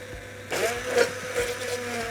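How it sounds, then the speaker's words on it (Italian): An immersion blender purees Spanish gazpacho. A steady, mid-loud whirring churn kicks in about half a second in and continues with slight surges; no one talks. "andiamo a frullare con il frullatore a immersione per emulsionare bene tutti gli ingredienti"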